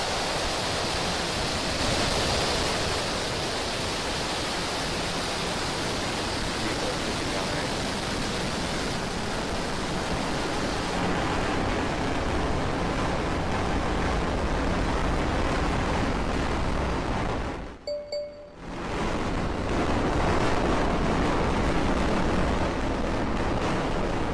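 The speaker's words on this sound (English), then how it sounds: "Ignition. Liftoff of Falcon 9 and Starlink Ocho." SpaceX Falcon 9 rocket carrying Starlink satellites roaring at ignition and liftoff, a loud sustained broadband rumble with crackle that holds steady, briefly drops out, then resumes.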